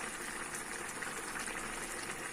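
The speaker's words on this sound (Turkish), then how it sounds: "Bezelyelerini ve sıcak suyu da ilave edip pişmeye bıraktım." A pot of meat and peas in hot water simmers with a soft, steady bubbling hiss, quiet and close, unbroken and with no voices.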